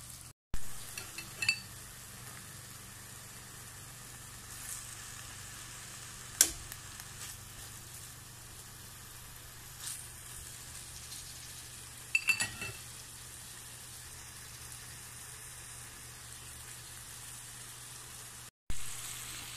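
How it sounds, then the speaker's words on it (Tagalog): Chicken fries on low heat in a pan with a faint, steady hiss, broken now and then by small pops and clicks. "Mahina lang yung apoy para maluto ang chicken niya at saka hindi siya masunog."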